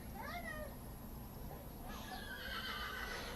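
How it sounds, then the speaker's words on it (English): A horse whinnies twice at a saddle club speed game event in an indoor arena, short rising and falling calls over steady arena noise, the second call longer and brighter. "She is guiding the horse."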